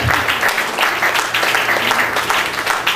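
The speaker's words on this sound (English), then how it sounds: "Let's give a big clap" An audience claps steadily for a Sunday School anniversary prize winner, a dense, continuous patter of many hands filling the room for a few seconds.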